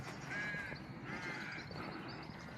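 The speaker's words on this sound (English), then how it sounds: "You might be able to hear the sounds of the crows." Crows caw a few times in the morning, faint and somewhat distant, over a quiet outdoor background.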